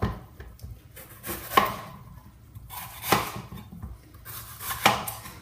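A pepper chopped on a board with a knife, a series of crisp knife strikes, three of them sharper and louder, at an uneven pace, close and alone without talk.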